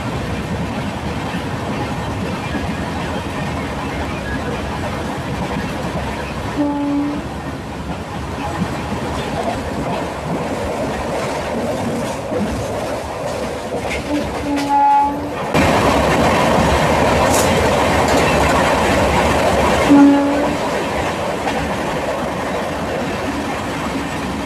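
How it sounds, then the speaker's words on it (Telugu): The Thiruvananthapuram–Chennai Mail Express passes on the line near Chennai, heard from aboard a train: a long, steady rumble of wagons with rhythmic clatter and a couple of short horn blasts rising over the din. "ఇప్పుడు మనకి క్రాసింగ్ అయిన train Thiruvananthapuram Chennai mail express"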